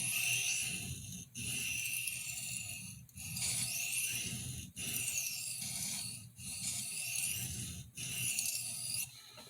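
A paring knife edge rasps against a sharpening stone in repeated long strokes, each pass a steady scraping rub separated by brief pauses, close and fairly loud with no talking.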